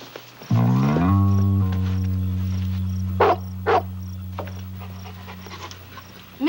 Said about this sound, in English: Mr. Chang, may I introduce you to Panda, the nuttiest shaggy dog I know.